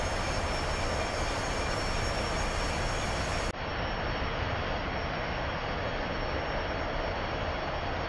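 Engines of a McDonnell Douglas DC-9-32 in a flight simulator game, a loud steady jet drone that fills the clip without pause, with a slight change in tone partway through; no talking.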